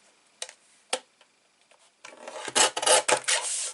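A white paper piece for a photo mat is trimmed, with a couple of faint scraping strokes followed by a louder run of rasping cuts close by.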